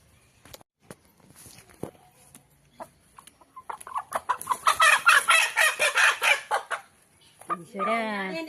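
A chicken with an injured leg, being treated with a herbal remedy, clucks in a burst of rapid calls, with footsteps and handling noises before and a brief crow-like call at the end.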